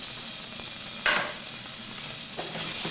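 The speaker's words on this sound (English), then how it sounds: "Do you hear that sizzling?" Garlic and diced San Marzano tomatoes sauté in a pot with a steady close sizzle, and a couple of brief stirring scrapes rise over the hiss, with no voices.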